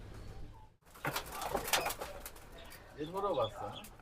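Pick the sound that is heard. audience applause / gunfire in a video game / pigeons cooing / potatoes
pigeons cooing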